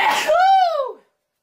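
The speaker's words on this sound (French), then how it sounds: "Pardon, j'ai éternué." One short sneeze bursts out, followed by a high, squeaky, tonal trailing sound as the breath fades. It is close, fairly loud and alone, and lasts about a second.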